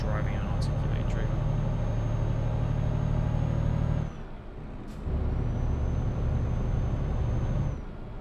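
A heavy articulated truck with trailer drives along steadily in Euro Truck Simulator 2, its engine drone constant and loud, easing off briefly midway before resuming, with a faint steady high whine above.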